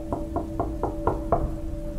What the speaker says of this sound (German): Ich klopfte an die Tür des bescheidenen Hauses